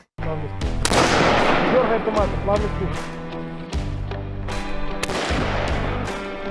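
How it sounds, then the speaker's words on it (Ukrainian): Automatic weapons fire at a military training range, with loud, nearly continuous rapid bursts and overlapping shots echoing throughout. "Вони стрілятимуть з автоматичної зброї."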